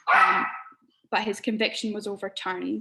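A dog barks once, loud and close, at the start, then a person talks steadily over a quiet room.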